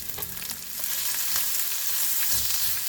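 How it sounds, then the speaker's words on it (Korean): Julienned onion and minced garlic sauté in hot oil in a pan, giving a loud, steady close sizzle with occasional stirring scrapes and no talking. "이번엔 채 썬 양파를 먼저 넣고 다진 마늘 반 스푼 넣어서 볶아줄게요."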